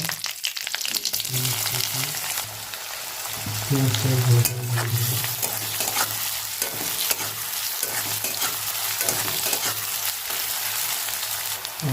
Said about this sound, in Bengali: তেল দিয়ে এর মধ্যে দিয়ে দেবো 2-4টে পাঁচফোড়ন, 4টে কাঁচা লঙ্কা